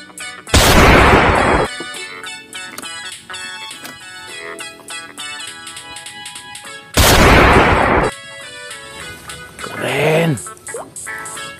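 A toy sniper rifle fires two loud, harsh electronic bursts, each about a second long and several seconds apart, over a busy tonal background with a brief voice-like sound near the end.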